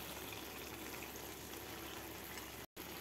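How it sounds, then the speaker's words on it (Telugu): Water being poured into an Andhra-style chicken curry in a pan, a steady rushing, sizzling pour running close and loud for about three seconds with a brief break near the end. "వాటర్ పోసుకుందాం"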